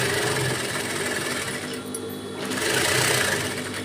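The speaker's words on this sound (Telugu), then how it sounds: "సమానంగా చూసుకుంటూ స్టిచ్ వేసేసుకోవటమే." A sewing machine runs steadily while stitching saree pleats. Its needle whirs in a continuous close-up hum that briefly eases off in the middle and then picks up again, with no voices.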